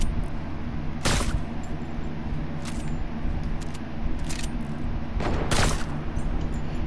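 Gunshots in Fortnite: two loud, sharp cracks stand out about four seconds apart, with a few fainter shots scattered between them over a steady game backdrop.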